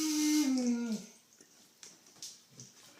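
A dog named Tucker whimpering at bath time: a long, high, sliding whine that drops in pitch, followed by quieter short yips and whimpers, close by and alone.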